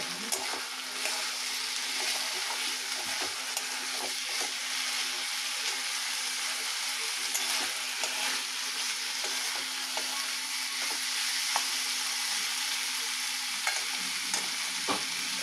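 Small fish curry with spices stir-frying in a dry pan with no water, a soft continuous sizzle with scraping stirs and light clinks, close but fairly quiet, no talking.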